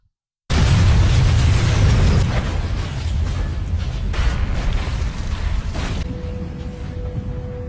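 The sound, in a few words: explosion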